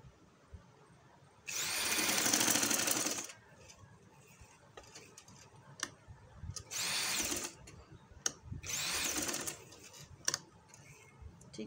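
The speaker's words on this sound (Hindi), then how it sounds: "इधर तक हमने सिलाई लगानी है इसको।" A sewing machine runs in three separate bursts while stitching a neck design on a garment, with quiet handling noises and small clicks between the runs.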